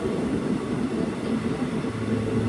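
The Malabar Express sleeper train runs along the track in the Kasaragod district, a steady rumbling roll with a continuous rattling, clattering texture heard from inside the moving train.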